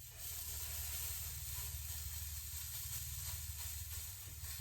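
Thick vegan pancakes cook in a pan with a soft, steady sizzle and hiss over a low, constant hum, faint and unbroken throughout.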